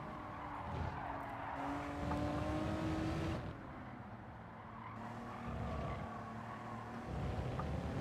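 A Honda NSX racing in Gran Turismo 7 at Suzuka near the hairpin: a high engine note rising and falling through gear changes, with tire squeal and skidding, fairly quiet overall.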